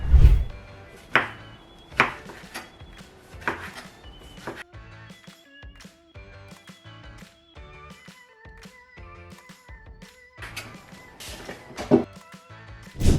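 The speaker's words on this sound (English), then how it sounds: "And then you just want to slice them." A knife slicing mushrooms on a cutting board, a series of sharp, close chops in an uneven rhythm, separated by quiet gaps, with faint background music.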